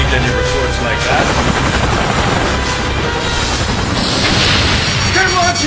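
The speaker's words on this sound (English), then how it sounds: "We have four unidentified incoming choppers." Several military helicopters approach in an action film, a loud, dense rotor roar mixed with rumbling effects and tense background noise throughout.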